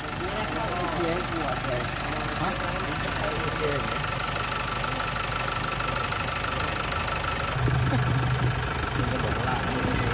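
A car engine idles steadily while cold, close, with a rough tapping knock running through it; people talk over the noise.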